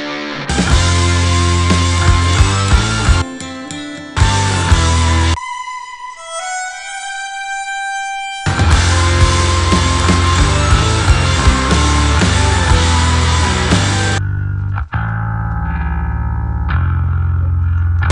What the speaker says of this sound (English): It's a pitch-shifted rhythm guitar.